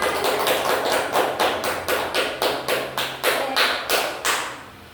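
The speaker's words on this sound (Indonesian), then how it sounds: "Beri tepuk tangan" A small class gives a short burst of hand claps in an Islamic studies (Al-Quran Hadith) lesson, falling into about a dozen loose, rhythmic pulses that fade toward the end, with no talking over them.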